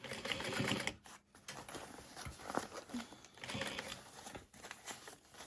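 A sewing machine stitches a handbag seam shut in short bursts of quick rattling, with brief pauses between runs, close but fairly quiet and without talking.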